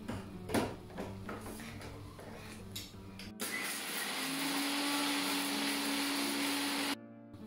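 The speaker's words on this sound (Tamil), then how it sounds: "இனி கிரைண்டர் கப்புக்குள்ள முதல் பொரிச்ச மிளகாயையும் உப்பையும் தான் போட்டு அரைச்செடுக்க போறேன்." Mixer grinder whirring loudly as it grinds fried dried chillies and salt in its cup, a steady high-pitched motor roar for several seconds before cutting off abruptly, preceded by clattering handling sounds.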